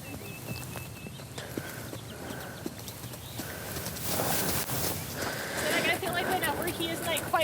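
A horse trots in a riding lesson on a farm, its hooves clip-clopping in a steady rhythm at moderate distance while people talk over it.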